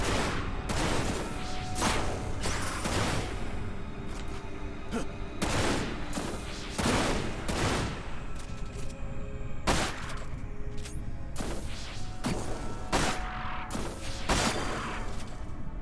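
Repeated bursts of gunfire from Vincent Valentine in the PS2 game Dirge of Cerberus: Final Fantasy VII, loud and close, sharp shots in uneven clusters over a steady bed of game noise.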